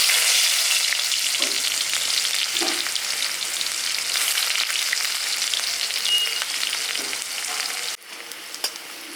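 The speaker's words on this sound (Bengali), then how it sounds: "পেঁয়াজটা হালকা ভাজা হয়ে গেছে" Chopped onion sizzles in mustard oil in a pan, a steady bright hiss with a few soft stirring knocks, fairly close, then the sizzle drops quieter near the end.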